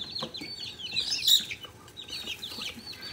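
Newly hatched chicks in an incubator or brooder give a chorus of high, rapid peeping chirps that overlap continuously, close by and moderately loud.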